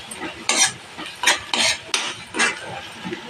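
A spoon scrapes through mutton liver mixed with turmeric in a pan in five or six distinct strokes, each a bright scraping swish with a faint sizzle beneath and short pauses between.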